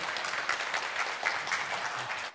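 An audience at a startup demo day applauds after a team's presentation, a dense, steady wash of clapping held at even loudness throughout and then cut off at the end.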